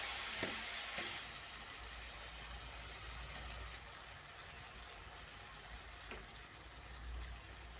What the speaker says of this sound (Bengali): আদা রসুন ভাজা হয়ে গেছে এখন আমি দিয়ে দিচ্ছি ঝালের জন্য কাঁচা লঙ্কা আর হলুদ গুঁড়ো